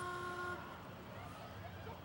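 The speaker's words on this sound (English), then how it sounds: "Nice antique car. I love the horn." A 1931 antique car sounds its horn at a small-town parade: one short, nasal honk at the start, then it fades into open-air crowd and street noise.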